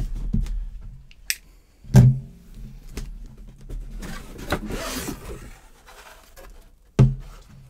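A sealed Bosch SDS rotary hammer tool box is cut open and unboxed: scattered sharp clicks, thumps and a brief plastic rustle, with quiet gaps between handling sounds, close by and without talk.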